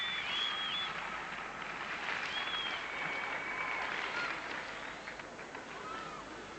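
Gymnastics arena crowd applauding after a women's uneven bars routine at the 1994 European Championships all-around final, a steady broad wash of clapping holding at moderate level across the whole stretch, fairly distant, with no voices on top.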